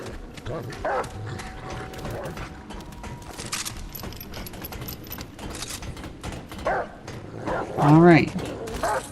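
A summoned dog companion in the video game Remnant: From the Ashes gives a short burst of barks near the end, set against a busy bed of game ambience and effects.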